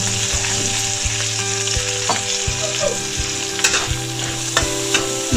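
Dried shrimp, scallion and shiitake mushrooms stir-fry in a wok with loud, constant close sizzling, while a utensil scrapes and taps against the pan in a repeated rhythm.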